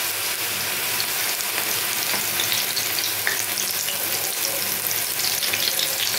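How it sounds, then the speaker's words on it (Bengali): Coriander leaf pakoras frying in hot oil, giving a loud, dense, unbroken sizzle and bubbling from close by, with faint stirring noises beneath it. "এখন এইভাবে একটা একটা করে আমি তেলের মধ্যে ছেড়ে দেবো।"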